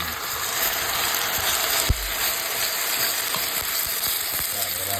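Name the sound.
chicken being sautéed in a pan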